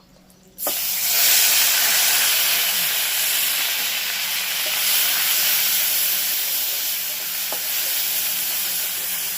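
Onion, ginger and garlic paste drops into hot oil with a sudden loud sizzle that then holds steady as a dense, bright frying hiss, with faint clinks of stirring.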